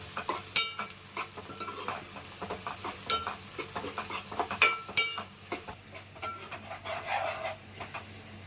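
Onion pieces fry in a pan for a pond-fish curry, with a constant sizzle under repeated scraping and clinking stirs from a utensil, close and moderately loud, with no talking.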